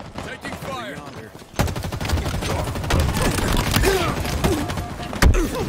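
Dense rattling automatic gunfire in Halo Infinite multiplayer on the Bazaar map, quiet at first, then loud and sustained from about a third of the way in, with a voice speaking over the shots.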